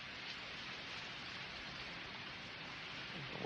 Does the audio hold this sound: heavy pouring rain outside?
yes